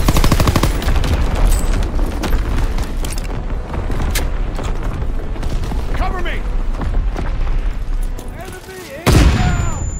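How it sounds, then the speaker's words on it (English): Artillery fire and an Azon bomb drop in Call of Duty: WW2, a continuous heavy barrage of booms and rapid gunfire with shouted voices over it, then a sharp loud blast near the end. "Dropping Azon bomb."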